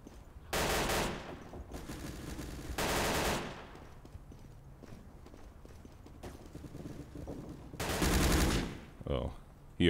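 Bursts of automatic gunfire from the World War II shooter Day of Defeat: Source, several loud sustained volleys separated by quieter stretches, with a final burst near the end.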